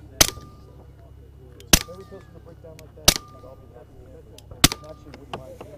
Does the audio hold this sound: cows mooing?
no